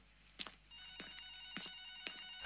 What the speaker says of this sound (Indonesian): Siapa yang nelpon ya?